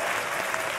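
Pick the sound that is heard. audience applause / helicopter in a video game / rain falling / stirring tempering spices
audience applause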